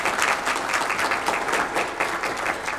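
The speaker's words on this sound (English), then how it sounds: "Give them a round of applause for the work they've done." A church congregation applauds during a Sunday morning opening service, steady crowd clapping with a rhythmic pulse that holds evenly throughout, fairly close and unbroken.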